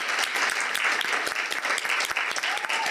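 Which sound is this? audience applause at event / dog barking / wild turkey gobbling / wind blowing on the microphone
audience applause at event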